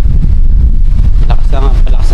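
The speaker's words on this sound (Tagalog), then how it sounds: "Palakas yung hangin." Strong wind at a beach resort on Calubcub Bay, San Juan, Batangas, at night buffets the microphone with a loud, constant roar, and a voice speaks briefly under the gusts.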